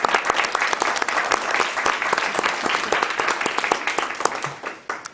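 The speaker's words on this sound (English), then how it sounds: "if I could ask for a round of applause" Audience applause at a Tippecanoe County Commissioners' meeting: many hands clapping in a dense, steady patter that holds for several seconds, then tapers off near the end.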